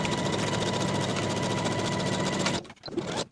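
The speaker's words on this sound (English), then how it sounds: "Sew the center front with a 5/8 inch seam allowance." A sewing machine runs continuously, stitching the center front seam of a sleeveless high-low hem dress with a 5/8 inch seam allowance, then stops abruptly near the end, leaving a few faint handling sounds.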